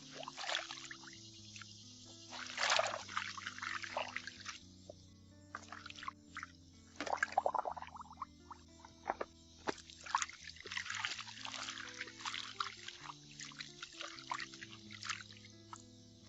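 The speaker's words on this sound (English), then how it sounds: "So mix that in the water, and as that, I'm just going to soak my clothes in here." Clothes being soaked by hand in a tub of water with oxy stain lifter mixed in, faint sloshing, trickling and splashes in bursts over soft background music, no talk.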